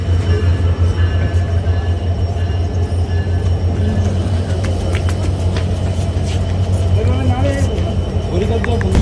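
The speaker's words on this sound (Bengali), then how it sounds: "ট্রেনে উঠে পড়ছি" A train rumbles steadily with a deep, continuous drone, while people talk nearby over the noise.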